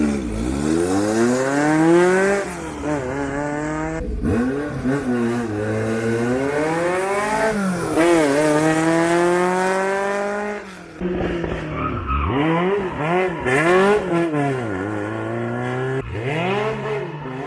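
Renault Dauphine race car in the paddock, its small engine revving hard through repeated rising gear pulls, loud and close, with brief drops between shifts and a faint tire scrub.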